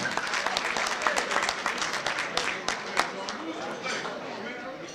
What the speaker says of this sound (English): Last round of applause for the freshman team.